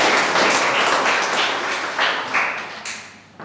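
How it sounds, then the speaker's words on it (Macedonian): An audience applauds Mr. Tsekanov at an art colony event in Mihajlovo, steady loud clapping from a crowd that gradually fades out. "Ве молам уште еден аплауз за господин Цеканов."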